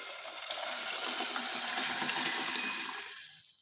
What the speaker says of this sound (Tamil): இதில் குழம்பு ஊற்றிடலாம்